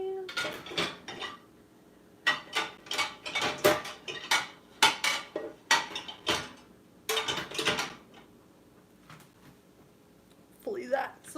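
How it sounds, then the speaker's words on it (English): A big frying pan and other dishes are loaded into a home dishwasher, with a long run of close, sharp clatters and knocks from metal, ceramic and racks, separated by a few short pauses. "Make room for this great big frying pan."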